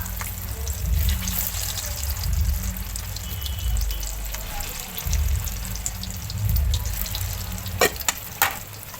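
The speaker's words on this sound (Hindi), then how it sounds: "देखिए मैं शैलो फ्राई कर रही हूँ" Mutton shami kababs shallow-fry on a tawa with a low bubbling sizzle, steady and close, broken by a few sharp clinks near the end.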